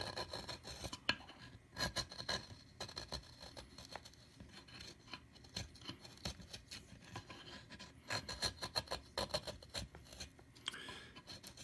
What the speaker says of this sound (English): What I'm doing here is just kind of finishing up the carving.